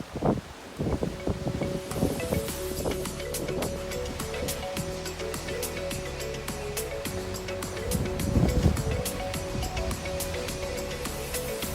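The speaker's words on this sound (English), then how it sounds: "It is incredibly windy, and we're docked at the pier" Strong, steady wind buffets the microphone on the deck of a cruise ship docked at a pier in Costa Maya, Mexico, with continuous rushing noise and clattering, rattling knocks throughout, and no talking.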